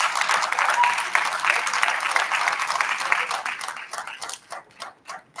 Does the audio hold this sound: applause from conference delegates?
yes